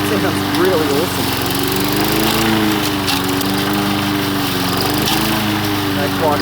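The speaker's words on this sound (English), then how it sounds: "the engine's not rattly at all anymore after I've given it that additive treatment, so it sounds really awesome" A Victa four-stroke lawn mower engine runs steadily and loudly throughout, its even drone holding close with a slight wavering in pitch as it mows.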